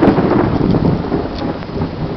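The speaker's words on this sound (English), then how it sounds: "I just missed like the biggest thunderbolt and it was so close" Close thunder rumbles loudly during a lightning storm in Waco, Texas, a heavy sustained roll blended with steady rain on surfaces, slowly easing over a couple of seconds with no talking.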